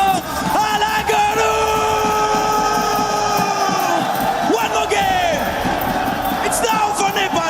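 Packed arena crowd at a PUBG Mobile World Cup esports event roaring and cheering loudly and continuously, with shouts and whoops rising above the dense mass of voices.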